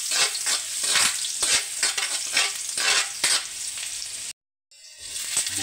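Garlic sautés in a hot pan, a loud continuous sizzle and crackle with stirring scrapes, briefly cutting out before the frying noise resumes.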